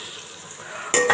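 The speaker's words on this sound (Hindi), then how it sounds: "मैं इसको फ्राई कर रही हूँ" Chicken sizzles in a pan with a soft, steady frying hiss, then a sharp louder scrape or stir near the end.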